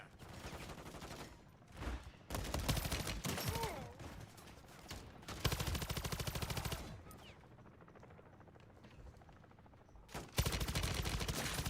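Video game firefight with repeated bursts of automatic gunfire, loud and near, separated by brief quieter gaps, with shouted game voice lines between volleys.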